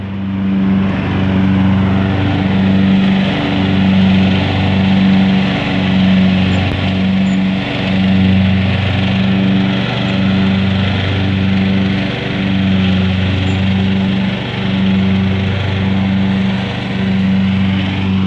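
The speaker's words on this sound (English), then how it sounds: "have him around to mow the lawn for me" Lawn mower mowing a lawn, a steady loud engine drone with a rhythmic pulsing hum that holds throughout, close by and uninterrupted.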